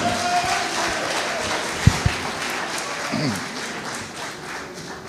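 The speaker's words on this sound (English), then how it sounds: "Can we have a round of applause, please, for the APC candidate?" Steady audience applause fills a hall at the Lagos State 2015 governorship debate as the APC candidate is welcomed, with sustained clapping at an even level and a couple of sharper thumps partway through.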